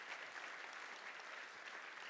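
Applause for hotel staff at a startup showcase event, a faint, steady spread of clapping from an audience, distant and even throughout.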